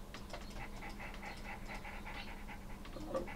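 A dog unit in the Red Alert 2 strategy game pants in quick rhythmic breaths over a steady game background, close and continuous with no clear barks.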